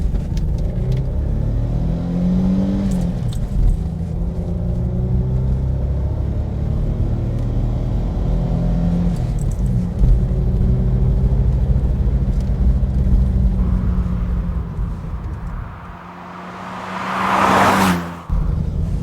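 A Ford Granada Scorpio 4x4 driven quickly through tight bends, engine revving up and easing off between corners with steady in-cabin road rumble and a sharp burst of noise near the end.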